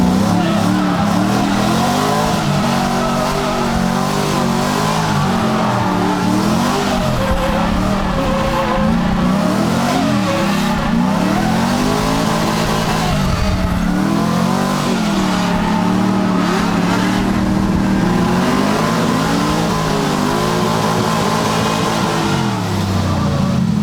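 Mazda RX-7 FC with a rotary engine revving hard on a track, loud sustained engine roar rising and falling through gears with brief tire squeal, a voice talking intermittently over it.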